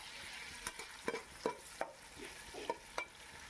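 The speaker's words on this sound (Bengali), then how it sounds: "দেখুন পেঁয়াজটা ভালো করে নাড়িয়ে চাড়িয়ে নিচ্ছি।" Onions frying in oil for hilsa pulao are stirred through the pan: about seven sharp spatula scrapes and clicks come at an irregular pace over a soft, steady sizzle, close and clear, with no talking.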